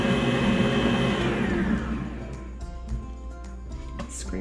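A Kenwood Major stand mixer runs with a loud, steady motor whir, strong at first and then settling into a lower hum while the bowl contents are mixed.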